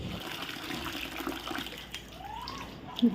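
Water runs steadily from a household tap into containers, a faint continuous splashing rush with a brief clunk near the end, heard alone at a moderate distance.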